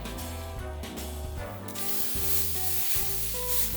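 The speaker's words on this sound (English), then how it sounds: "And then we're just gonna take this and we're gonna sear it up on the grill here." Seasoned beef tenderloin sears on a hot griddle with a 1-inch plate, a steady close sizzle and hiss with occasional scraping and stirring sounds, no talk.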